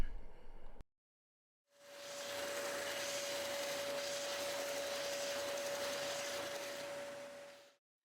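A bandsaw cuts the freeform edge of a wooden panel, a steady buzzing whine with a sustained pitched tone that runs about six seconds after a brief burst of other noise and a pause.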